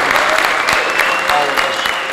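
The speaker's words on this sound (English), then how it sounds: "can we all just give a round of applause for the Farkas family" A crowd at an outdoor truck show applauds the Farkas family: steady, dense clapping close to the microphone that carries evenly through the whole moment.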